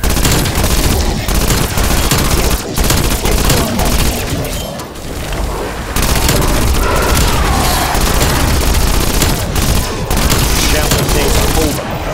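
Semtex grenade blasts and rapid gunfire from a Call of Duty Zombies match, with loud continuous shooting and booming explosions throughout, briefly easing in the middle before the barrage resumes at full intensity.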